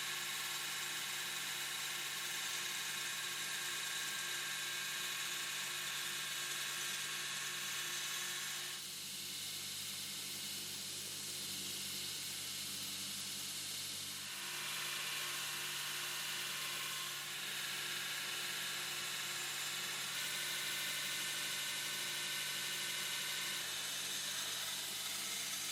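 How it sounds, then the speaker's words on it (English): An angle grinder runs steadily, grinding cracked bad spots out of a canister damascus billet forged from nails, a continuous high whine whose pitch shifts as the wheel loads and eases against the steel. "I grind these bad spots out and see what I have left."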